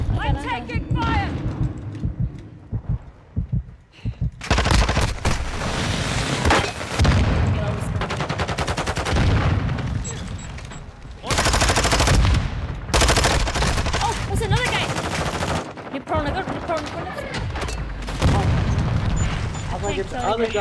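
Rapid bursts of gunfire and booming blasts in a first-person shooter video game come in loud waves with brief pauses, and players talk throughout.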